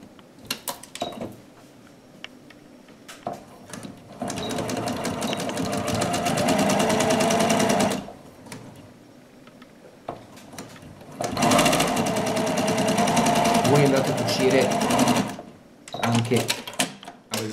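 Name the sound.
sewing machine stitching a straight seam on fabric pieces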